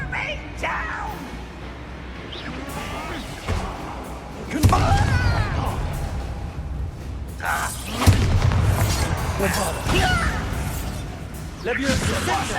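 Spell explosions from Confringo and Bombarda in Hogwarts Legacy: loud booming blasts and thuds, with sharp hits near 4.5 and 8 seconds, over a continuous rumbling game soundtrack with shouted voices.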